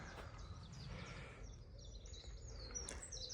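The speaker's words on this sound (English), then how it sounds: "I can hear the bird's song." Birds sing faintly at a distance on a sunrise coastal walk, light chirps scattered over a steady low rumble of wind or surf, with no talking.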